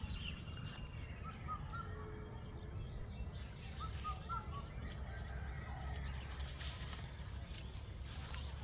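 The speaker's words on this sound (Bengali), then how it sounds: "পাখির কিচিরমিচির আওয়াজটা স্পষ্ট কানে এসে বাজে।" Morning birdsong in a quiet rural setting in spring, with scattered faint chirps and calls, a koel among them, spread over a steady low background hum and distant ambient noise.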